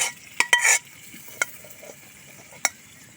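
Mung bean stew being stirred in a pot: a few scraping, clattering stirs bunched near the start, then isolated single knocks of the spoon against the pot over a quiet background.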